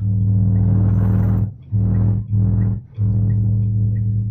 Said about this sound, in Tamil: இப்போ கிரீப் மோட்ல தான் வண்டி போயிட்டு இருக்கு.